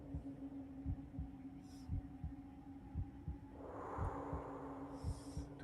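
Steady thumping heartbeat in the video game Psi-Ops: The Mindgate Conspiracy, a regular low double pulse running throughout under a humming game ambience, with brief soft effects layered above.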